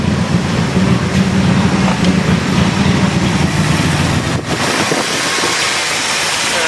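A Ford LTD engine idles after carburetor work, running roughly, a loud, steady rumbling drone with a brief dip near the end, close to the microphone.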